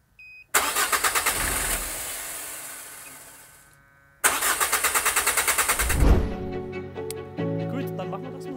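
A car engine cranks during a roadside battery voltage test, with two loud, rhythmic starter-motor bursts close by; the second ends with the engine catching and settling into a running idle.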